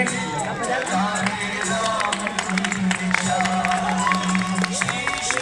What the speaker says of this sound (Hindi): बच्चों के लिए जोरदार तालियां बजाएंगे।